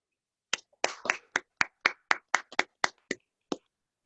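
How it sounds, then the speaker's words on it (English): Scattered handclaps from newly sworn bar members at an induction ceremony, about a dozen distinct sharp claps spaced unevenly over a few seconds, fairly close and moderately loud against near silence. "please give yourselves a round of applause"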